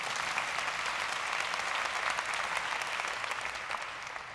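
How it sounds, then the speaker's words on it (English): An audience applauds at the International Children's Peace Prize 2015 ceremony, a steady, moderately distant wave of many hands clapping that tapers slightly at the end. "Tondiwe from Zambia, you can applaud for him as well"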